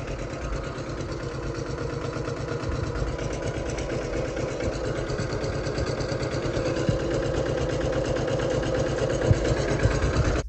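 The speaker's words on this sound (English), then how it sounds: "It's almost kind of like a whining sound." Yanmar 1500D tractor running steadily with a rhythmic engine chug while the hydraulic three-point hitch strains to lift, a continuous whine layered over the idle for about ten seconds, no talking.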